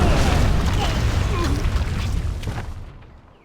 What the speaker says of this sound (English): this fight has a added threat of cannon fire